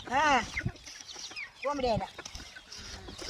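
A native hen with a lame, plastered leg clucks loudly up close in short bursts, with people talking quietly nearby.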